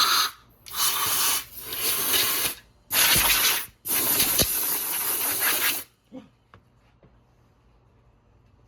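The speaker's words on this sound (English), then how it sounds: "First, you want to blow out the holes." Compressed air blasts debris out of the spark plug holes on a 2019 Mercedes-AMG C43 engine in several loud, sharp hissing bursts, followed by quiet with a few small clicks.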